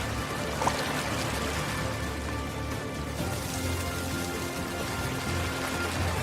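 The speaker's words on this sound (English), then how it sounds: "Lance, I got water at the plant" Water gushing into a gold mining wash plant, a dense continuous rushing and splashing flow that holds steady at a loud, near level with no speech.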